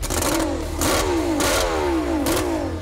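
F1 racing boat engine roars loud and close, revving up and down in repeated surges with sharp rising and falling pitch sweeps over a steady rumbling drone.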